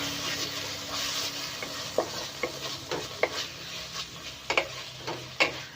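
Noodles with a splash of vinegar are stirred in a hot pan, sizzling steadily under sharp intermittent scrapes and clacks of the spatula against the metal, close and moderately loud, no talk.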